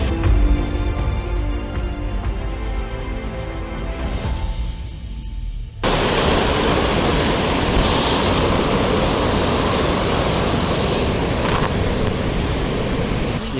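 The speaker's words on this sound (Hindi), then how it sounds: "यहाँ एक तरफ है बहुत ही प्यारा झरना" Steady broadband rush of a waterfall beside a mountain trail on the Shrikhand Mahadev trek, continuous and close, with a louder, fuller roar from the middle of the clip onward.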